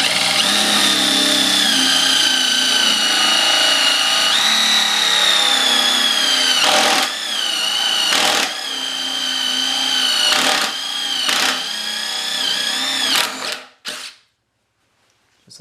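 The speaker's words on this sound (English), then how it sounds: "3/4 inch hole saw, drills the hole" A power drill fitted with a 3/4 inch hole saw bores a hole into a wooden five-frame bee hive nuc box, whining loudly and steadily with several brief dips as it bites through the wood, then stopping abruptly.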